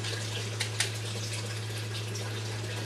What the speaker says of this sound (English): Sorry if you hear like water, it's my turtle.